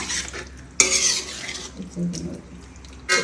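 Chicken being stirred with spices in a cooking pot, with scraping and clattering bursts of a utensil against the metal over a soft sizzle, close and moderately loud, with no talking.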